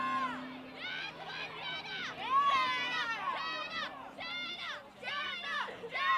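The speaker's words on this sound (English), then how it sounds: "we've got fans cheering her name" Fans cheer and shout a player's name at a girls lacrosse game on senior night, with Oregon and Janesville playing. Voices come in repeated rising calls that swell and fall over a steady crowd murmur.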